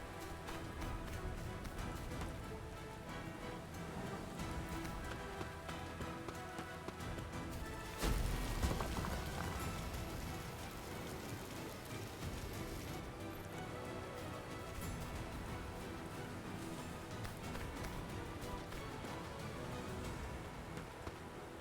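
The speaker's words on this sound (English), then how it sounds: "I definitely would want to disable the rain simply for that reason." Steady rain falls in the open-world survival shooter Dysterra, a constant dense patter with a brief louder thump partway through, with no talk.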